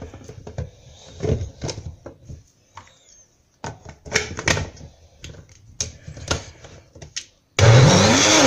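Electric blender grinding a homemade meat-free kashir mixture, pulsed bursts of motor whirring and chopping with pauses between, then a sustained loud run at the end, close and without speech.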